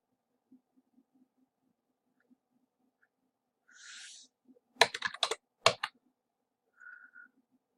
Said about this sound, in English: I'll type just a couple of things in here.